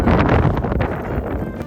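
Strong wind buffeting a microphone outdoors by a pond, a loud continuous rumbling roar with gusty rustle throughout, no speech.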